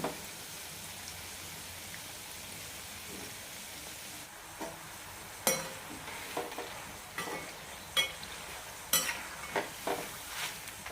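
Rice flour snacks deep frying in hot oil until golden: a low continuous bubbling sizzle broken by repeated sharp ladle clinks and stirring knocks every second or so, close up with no voices.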